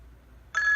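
Standard ringtone of an Avaya 9621G desk phone starts after a half-second of near silence, a sharp electronic tone sounding close and alone.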